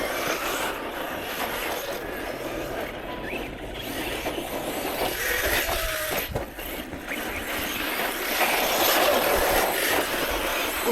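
Two 6s RC trucks, a Traxxas Sledge and an Arrma Kraton, race a single lap outdoors. Their electric motors make a steady, fairly close whine, with wheel and gravel noise that swells toward the end.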